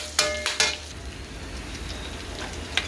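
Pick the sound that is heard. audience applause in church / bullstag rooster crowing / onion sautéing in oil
onion sautéing in oil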